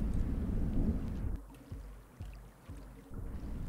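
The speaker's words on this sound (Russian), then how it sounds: "Что за молния такая, грохот-то такой?" Deep, low thunder rumbles in the video game Rain World Drought mod during a storm by a flooding coastline, a heavy roll that fades into quieter, irregular low thuds.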